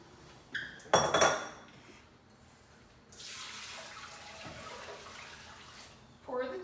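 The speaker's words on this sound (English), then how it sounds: "pour the tea" Kombucha tea is poured through a fine mesh strainer into a Pyrex dish as a steady splashing trickle, after a clattering clink of glass and utensils, with brief speech at the end.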